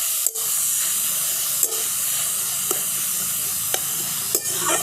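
Grated potatoes fry in ghee, producing a loud, dense hiss and sizzle close up, punctuated every second or so by sharp clicks of a spatula stirring, with no speech.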